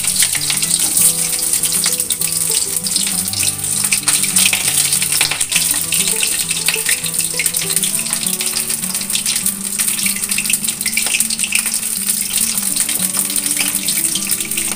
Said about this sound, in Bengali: তেলটা গরম হয়ে গেছে, এবার আমি দিয়ে দিলাম পটল। পটলগুলো এবার আমাকে ভালো করে ফ্রাই করে নিতে হবে।